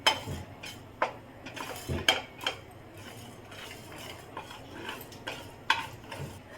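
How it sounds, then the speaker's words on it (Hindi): Whole spices being lightly dry-roasted in a frying pan on a gas stove for a brinjal curry, stirred with a spatula: irregular metallic clinks, knocks and scrapes against the pan, with no oil sizzle. "गैस जलाकर हमने फ्राई पैन रख दिया है और इसमें हम डाल दे रहे हैं सारे मसाले को। ऐसे हम हल्का ही भूनेंगे।"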